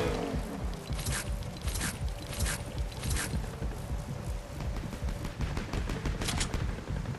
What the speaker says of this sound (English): I hear gunshots in this area.